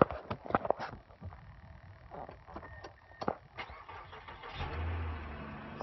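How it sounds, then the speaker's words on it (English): A 2012 Mazda CX-9 engine cranks and catches near the end, settling into a low steady idle after scattered clicks and handling noises inside the cabin. "Go ahead and start it up here for you."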